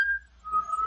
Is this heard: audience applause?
no